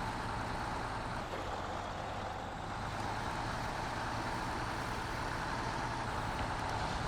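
An in-game UniCOLT army truck engine in Snowrunner grinds steadily uphill, a loud, continuous low drone with no breaks and no talk.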